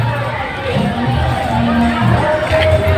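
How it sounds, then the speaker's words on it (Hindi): Dense crowd murmur fills a busy Sawan Monday temple fair at Bargarh, Kharsia, a steady loud babble of many voices with a few nearer people talking throughout. "बहुत ज़्यादा भीड़ है दोस्तों, देख लो।"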